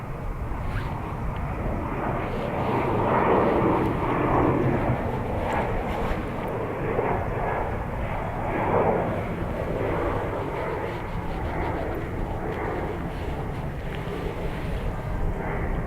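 A Ryanair airliner landing on runway 28 left at Dublin Airport in calm wind, a steady broad roar of jet engines heard from outside, with wind buffeting the microphone throughout.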